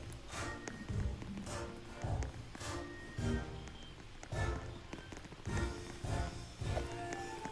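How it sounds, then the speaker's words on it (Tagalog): Rain in the Roblox Squid Game video game makes a steady patter on surfaces, with regular heavier thuds at roughly one-second intervals, all fairly quiet. "Grabe yung ulan."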